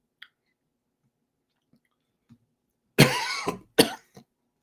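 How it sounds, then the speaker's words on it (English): A person coughs twice in close succession, a loud harsh burst followed by a shorter second cough, after a few faint small noises in an otherwise quiet room. "Got a little coughing going on here."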